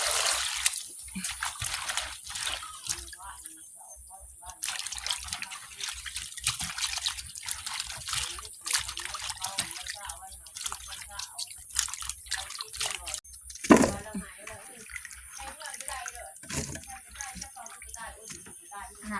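Ingredients for a mushroom and bamboo shoot dish are washed in water, giving soft, irregular drips, trickles and small splashes close by, with one sharper knock partway through.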